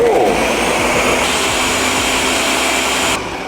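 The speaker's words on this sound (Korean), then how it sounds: "우리 이제 블렌더 맥스 블렌더로 해서 한번 갈아보도록 할게요" A Ninja all-in-one blender runs on its max blend setting, a loud, steady high-pitched motor whir that holds constant before dropping off slightly at the end.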